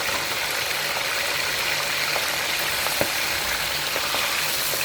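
Raw chicken pieces frying in hot oil in a karahi, a steady dense sizzle filling the whole stretch at even loudness, with faint scattered crackles and no talking.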